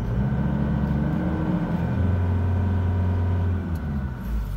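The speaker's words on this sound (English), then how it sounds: "Let's give a car a quick rev now for us." A 2017 Toyota Hilux Workmate single cab's engine is revved briefly, a close, loud mechanical drone that climbs and holds steady before easing back down, with no talking.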